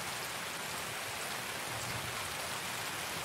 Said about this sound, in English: I'm so glad it's raining.